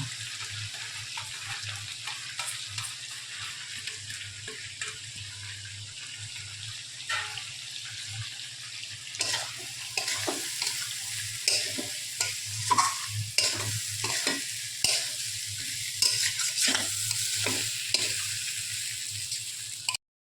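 Shrimp and masoor lentils fry together in a pan with a steady close sizzle. In the second half, repeated scraping strokes of stirring grow louder and more frequent.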